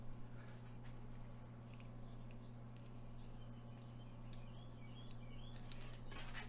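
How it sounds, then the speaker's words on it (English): Birds chirp outdoors beyond an open door near a 3D printer setup, faint scattered tweets over a steady low machine hum, with no talking. "I hear birds chirping."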